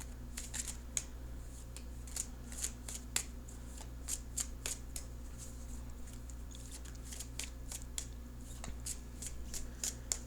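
Tarot cards being shuffled by hand: repeated crisp riffles and snaps, close and distinct, over a low steady hum.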